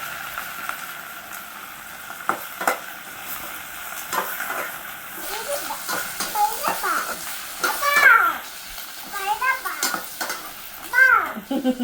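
Spleen meat and potatoes fry in a pan, sizzling steadily while a utensil scrapes and stirs in repeated strokes, with brief metallic clatters near the end.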